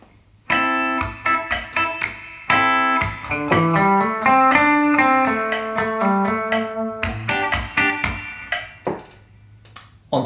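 Electric guitar playing bars 32 and 33 of a song, a short rhythmic passage of clean plucked chords and triads with syncopated attacks and brief gaps, loud and close, no talking.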